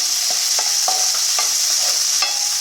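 Chopped tomatoes going into a sizzling dhaba-style dal fry tadka: a loud, steady hiss of hot oil with a handful of spoon scrapes and taps, close up and with no voices.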